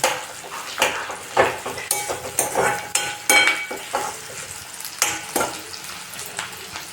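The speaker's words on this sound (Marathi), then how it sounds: "याला डीप फ्राय करून घेऊ ऑनियनला प्रथम" Large chopped onions deep frying in hot oil for dal fry, a steady sizzle broken by repeated scraping and stirring strokes of a metal spoon against the pan, close and fairly loud with no talking.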